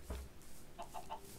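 Chickens in a farm enclosure in a video game give a few soft, brief clucks in quick succession, faint and close together.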